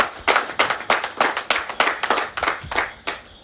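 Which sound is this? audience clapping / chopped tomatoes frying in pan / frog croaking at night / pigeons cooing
audience clapping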